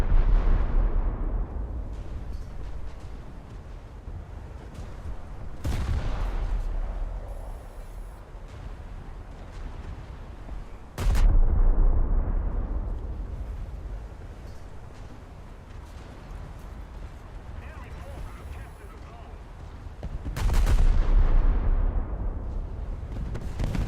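Naval guns in a video game fire at another player's ship on a development test server, three loud booming blasts spaced several seconds apart, each decaying into a rumbling tail over a continuous low background.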